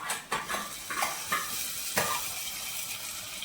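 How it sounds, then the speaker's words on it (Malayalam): Dal curry poured onto hot mustard seeds fried in a pan crackles and sizzles, with several sharp splutters and stirring clinks over a steady hiss, close and fairly quiet. "കടുക് വറുത്ത പാത്രത്തിൽ ഇത്തിരി കറി ഒഴിച്ച്"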